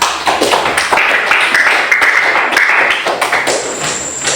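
A group of students in a classroom claps together with quick, uneven hand claps, loud and close, briefly rising then fading, with some faint voices mixed in.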